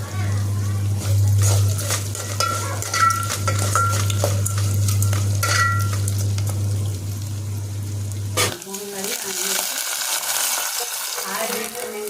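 Onions frying in a pan with peanuts and lentils, a loud steady sizzle with stirring clatter. A voice talks over it, and the sizzle drops away near the end.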